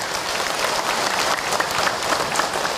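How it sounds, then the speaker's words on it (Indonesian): Audience applause at an Islamic talk about honouring wives, a steady dense wash of many hands clapping, fairly loud and even throughout with no speech over it. "boleh tepuk tangan untuk Ahilman, ibu."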